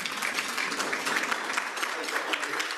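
A Rotary Club audience claps at a luncheon meeting in Fort Worth, a dense, steady patter of many hands heard at moderate distance, with no voices over it.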